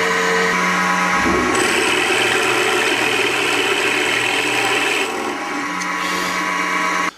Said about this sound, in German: So, und dann bohren wir.